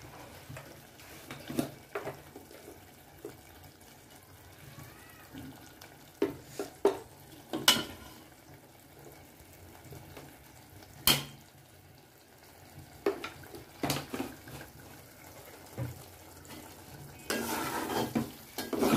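Eel fish curry with sliced green chilies and a little cumin powder being stirred in a pan, with scattered scrapes and clinks of a utensil against the pan over a low simmering background, nearby and fairly quiet.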